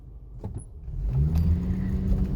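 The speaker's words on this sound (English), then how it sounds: "Ooh, I got a little peel out there" A $200 used car pulls away hard from a standing start, its engine rumble swelling and revving louder after a quiet moment, with a sharp burst as the tires break loose, close and without talk.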